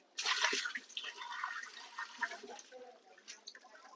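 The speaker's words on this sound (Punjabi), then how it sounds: "ਇਹਨੂੰ ਆਪਾਂ ਚੰਗੀ ਤਰ੍ਹਾਂ ਪਾਣੀ ਦੇ ਨਾਲ ਧੋਵਾਂਗੇ ਜੀ" Running water splashes over a washing machine part being rinsed clean of dirt, a bright gushing spatter that starts abruptly and continues in uneven bursts and drips, fairly quiet and close, with no talk.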